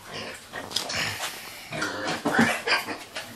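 A pig grunts and snuffles in short irregular bursts, close by, with wet snorting and rooting noises.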